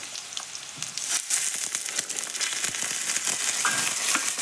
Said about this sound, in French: On va mettre de l'eau dedans jusqu'à mi-hauteur.